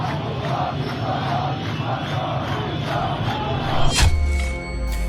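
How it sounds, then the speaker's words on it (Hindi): Large protest crowd on the streets of Tehran, Iran, chanting slogans in rhythmic massed voices, a dense roaring chorus that swells before an abrupt cut. "वहां भीड़ नारे लगा रही है।"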